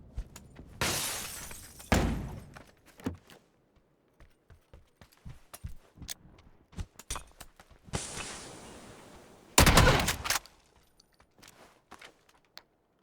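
Shotgun blasts in the battle royale game PUBG, solo mode: two loud, broad booming shots several seconds apart, each with a sharp crack and short decay, separated by quieter scattered clicks and footstep-like taps.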